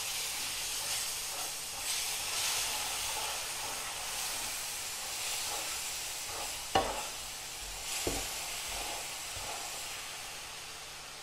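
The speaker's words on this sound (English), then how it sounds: "And we have to stir also continuously." Hot atta halwa of wheat flour being stirred continuously in a pan, a steady sizzling hiss with soft scraping strokes and a couple of sharper clinks of the spoon against the pan.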